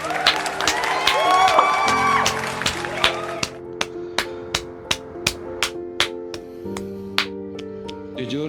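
A crowd claps and cheers briefly, then applause thins into a slow series of separate claps over a sustained musical tone.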